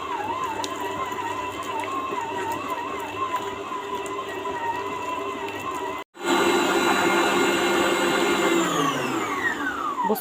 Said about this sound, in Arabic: وهخفق الزبده والسكر مع بعض بالشكل ده